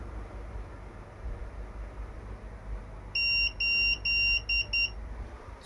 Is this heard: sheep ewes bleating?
no